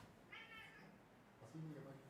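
A pet cat meows close by, two drawn-out meows separated by a short pause, clear and moderately loud in a quiet room.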